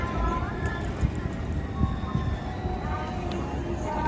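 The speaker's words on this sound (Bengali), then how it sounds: "এখানে দেখতে পাচ্ছেন আর একটা ট্রেন চলে যেতেছে।" A train rolls past at a night fair in Florence, Italy, a steady low rumble with scattered rhythmic clacks under the busy hum of the crowd.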